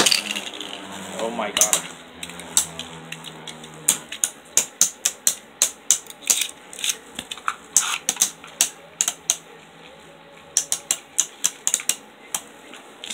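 Beyblade Burst tops, Archer Hercules and Guardian Kerbeus, clash in a stadium with a rapid series of sharp metallic clicks and ticks, close and irregular over a constant whirring spin, as a voice exclaims briefly near the start.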